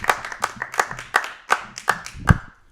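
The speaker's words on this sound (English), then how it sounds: "Big round of applause for a very funny man, Dylan Jones, ladies and gentlemen." A comedy show audience claps in a steady rhythmic beat, about seven or eight crisp claps in quick succession, loud and close, fading at the end.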